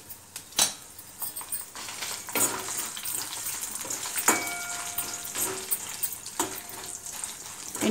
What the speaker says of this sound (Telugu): ఎండుమిర్చిని కొద్దిగా కలర్ వచ్చేంత వరకు వేయించుకోవాలి.